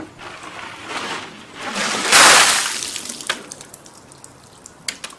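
Ice water dumped over a person during the ALS ice bucket challenge gives a broad rushing splash that swells and peaks around two seconds, then trails off into drips and small splatters.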